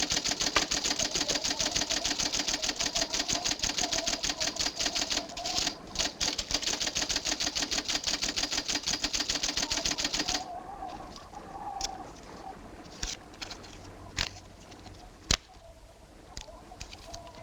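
A telegraph sounder clicks out a coded message in a film scene, a rapid, steady stream of sharp close clicks that stops partway through and gives way to a few scattered knocks and taps.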